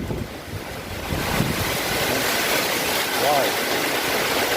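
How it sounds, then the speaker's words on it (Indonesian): Strong gusting wind roars during a typhoon with heavy rain over the town of Selatpanjang, heard from atop a tower as a loud, steady broadband rush with a brief faint tonal whine partway through. "Kita lagi di atas tower, tiba-tiba angin kencang."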